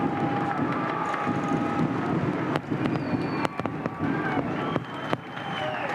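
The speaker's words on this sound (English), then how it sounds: "Fireworks are going off." Fireworks go off at the 2003 Supercars main event at Eastern Creek, with sharp irregular pops and bangs cracking over a loud, steady roar of crowd and circuit noise.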